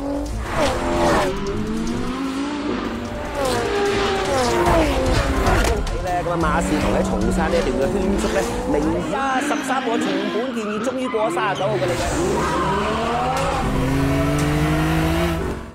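Race cars in a film street-racing scene, engines revving and whining with tires squealing, heard throughout under continuous narration.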